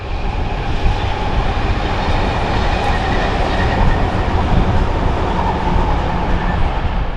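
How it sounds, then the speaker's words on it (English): A train roars express through a suburban station on Melbourne's Werribee line, a loud, steady rush of wheels and rail noise that holds unbroken for the whole stretch, with faint clickety-clack underneath. "But for the most part, trains fly through here express."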